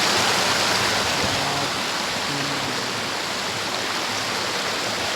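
A stream of flowing water rushes in a steady, loud, continuous wash close by, with no voices over it.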